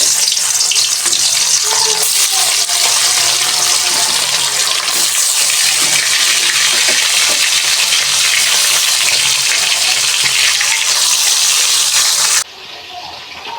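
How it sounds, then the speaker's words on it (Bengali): Fish fry in hot oil with a loud, dense, continuous sizzle and crackle that fills the pan, then cuts down sharply to a quieter hiss near the end. "তেল গরম হয়ে গেছে মাছগুলো ভেজে নেব"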